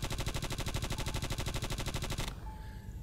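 A minigun in a space combat video game fires a steady, fast, loud burst of rattling shots for about two seconds, then stops abruptly, leaving a faint hum.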